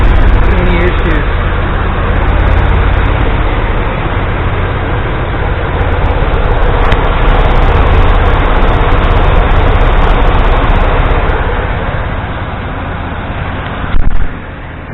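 A Chevy C1500 OBS pickup's engine runs steadily after an A/C bypass and rerouted drive belt, giving a loud, continuous low rumble and whir heard up close for the whole stretch, with a brief bump near the end.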